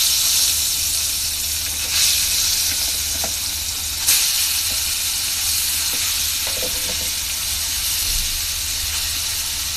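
Poya fish fry in hot oil in a frying pan, giving a steady close sizzle and hiss with occasional sharper pops and spatters.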